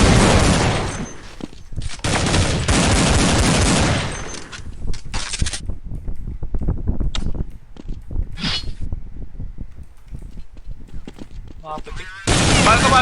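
Bursts of rapid gunfire in Counter-Strike: Global Offensive, loud sustained volleys at the start and again at the end, with scattered shots, clicks and voices talking in between.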